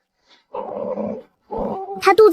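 A small, round-bellied puppy gives two short, close growls, the second rising into a higher whining yelp at the end.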